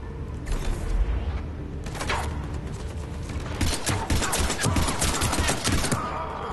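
Rapid bursts of gunfire from the video game Mass Effect 3, set in the Prothean Archives on Mars, crack steadily across the scene in dense fusillades, loud and close, building to quick repeated volleys near the end.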